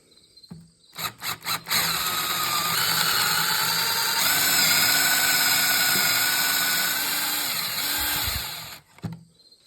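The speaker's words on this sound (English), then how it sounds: "I'm going to go ahead and drill this in all the way to the stop." A few short bursts of a power drill, then a long steady high whine as the bit bores a pocket hole through walnut to the stop, ending with brief trigger pulses.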